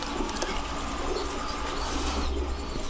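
Pigeons cooing among a loft of female birds including a Saharanpuri hen, soft repeated low coos close by over a steady murmur of other birds.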